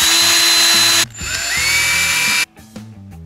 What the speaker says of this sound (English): So I'm gonna drill holes in here.